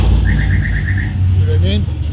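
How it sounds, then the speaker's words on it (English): A Chevrolet Camaro alarm goes off on a cold day, giving a rapid string of short, even electronic chirps over a low idling engine rumble, followed by a few sliding tones. "now the Camaro's alarm's gonna sound, so it's jealous"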